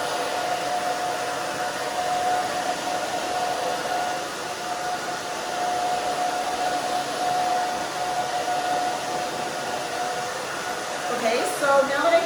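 Babyliss Pro blow dryer running steadily while drying short hair, a continuous loud whooshing hum with a faint whine, close and unbroken throughout.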